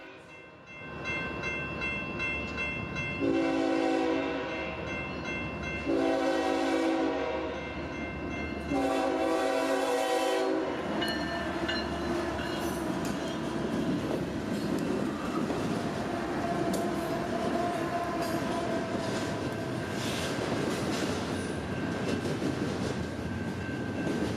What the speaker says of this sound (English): distant horn and faint headlights shatter the sleepy quiet of South Fresno